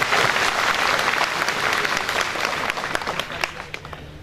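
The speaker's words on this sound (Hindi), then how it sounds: "एक बार ताली बजा दो।" An audience of prisoners at a spiritual program in Firozabad breaks into sustained, dense applause that stays loud throughout, tapering slightly toward the end with a few sharp individual claps standing out.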